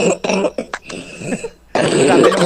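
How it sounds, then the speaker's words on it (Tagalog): Someone coughs and clears their throat harshly and close up, a quick cluster of rough hacks followed by a longer, loud raspy cough. "Grabe naman pala yung ubo."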